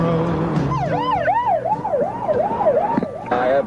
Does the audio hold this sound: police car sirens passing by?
yes